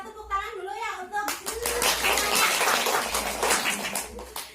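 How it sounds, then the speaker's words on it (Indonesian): A group of family-program participants at a community meeting clap together after a speaker's voice, a burst of hand claps running several seconds with some voices and chatter mixed in. "Jadi kita tepuk tangan dulu ya untuk"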